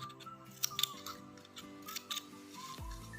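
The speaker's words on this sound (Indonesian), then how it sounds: "kemudian misalnya bisa kita gunting-gunting" Scissors snip a plastic bottle into small strips, a few sharp, close clicks of the blades scattered over a few seconds, with soft background music running underneath.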